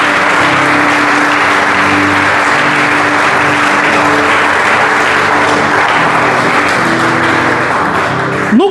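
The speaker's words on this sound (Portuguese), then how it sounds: "Você pode aplaudir o Senhor Jesus aí" A church congregation applauds continuously, a dense wash of clapping hands filling the hall at full strength throughout.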